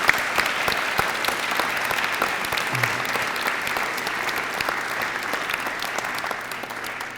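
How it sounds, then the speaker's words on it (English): A ceremony audience at a Veterans Day event applauds veterans with sustained, even clapping from many hands, a steady crackling roar that continues throughout without pause. "Can we give them a round of applause, please?"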